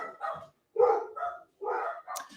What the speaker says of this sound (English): Those are my dogs. There's not much I can do about the dogs at this point. Gotta just let them bark